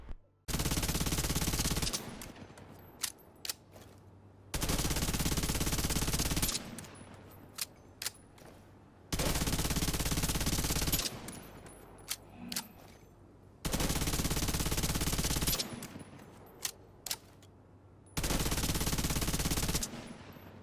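Automatic weapon fire from The Division 2 comes in five long, loud sustained bursts of about two seconds each. Quieter gaps with scattered clicks and shots separate the bursts.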